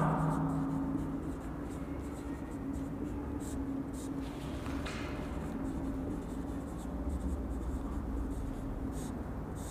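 Writing during a mathematics lecture, likely chalk or marker on a board, as a continuous scratchy scraping that runs for about ten seconds over a steady low room hum, with no talking.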